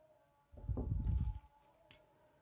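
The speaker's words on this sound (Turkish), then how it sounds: "Şimdi buradaki yeşil ipimi kesiyorum." Scissors snip through green embroidery thread during hand embroidery of a flower motif, giving a short, close crunch followed by a faint click a moment later.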